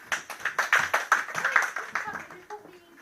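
Audience members at a quiz night in Milton Hall clap for the boys' team, a modest round of distinct, rhythmic handclaps that starts strong and fades out after a couple of seconds.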